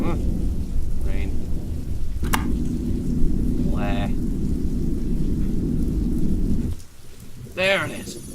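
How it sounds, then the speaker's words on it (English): Rain with rolling thunder in the video game Signal Simulator, a constant low rumble and patter under occasional brief spoken remarks, easing near the end. "Huh. Rain."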